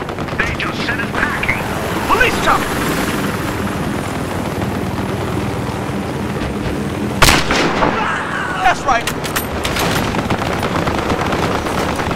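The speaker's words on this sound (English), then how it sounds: "Police chopper, look out!" Steady police helicopter rotor drone in a video game, with bursts of gunfire cracking through, loud and dense, several sharp shots clustered near the middle.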